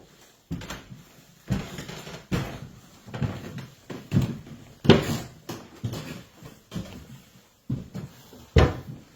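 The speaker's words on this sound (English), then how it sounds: "Just picture the amount of movement needed to create those creaks." Old wooden stairs creak and knock under someone's moving weight, with a string of uneven, fairly quiet creaks and thuds and no talk.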